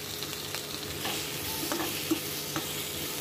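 Onion and tomato sauté in a pan, a steady close sizzle and frying crackle with stirring scrapes and a few light clinks, no voices.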